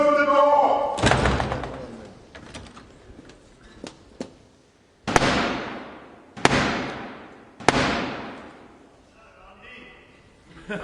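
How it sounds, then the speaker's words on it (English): The heavy wooden door of the House chamber is slammed shut several times, each a loud, sharp bang echoing through the hall, with voices and commotion in between. "Close the door!"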